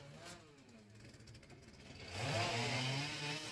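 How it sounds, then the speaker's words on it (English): Sawmill saw running with a steady engine-like drone that swells louder and harsher about two seconds in, its pitch rising and falling as it works, fairly close with no speech. "We got a lot of sawing going on around here now."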